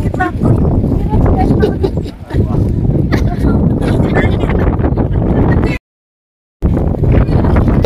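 Strong wind at the Tinawagan Hills campsite buffets the microphone with loud, continuous rumbling gusts, broken by one brief dropout near the end.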